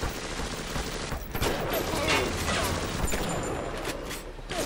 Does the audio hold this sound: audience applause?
no